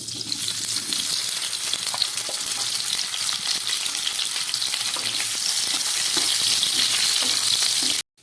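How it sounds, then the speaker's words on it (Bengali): Boiled potatoes fry in hot mustard oil, a dense, loud, continuous sizzle with faint stirring clicks running close throughout before cutting off abruptly at the end. "এবার এই সর্ষের তেলের মধ্যে আমি এই সিদ্ধ করে রাখা আলুগুলো আবার একটু ভেজে নিচ্ছি"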